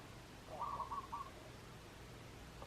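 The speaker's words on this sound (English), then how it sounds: "That's birds, so if you hear that," Birds call outdoors in Hawaii, a short soft cooing phrase of a few notes, faint and distant against a steady background hiss.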